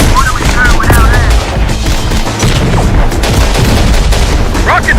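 Heavy automatic gunfire and booming blasts from the video game Terminator Dark Fate Defiance, a loud continuous barrage with rapid bursts filling the whole stretch, with brief in-game voice callouts over it.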